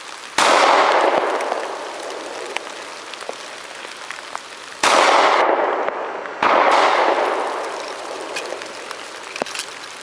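Three loud, close pistol shots fired from reloaded ammunition crack out in an irregular pattern, each followed by a long decaying echo across the range.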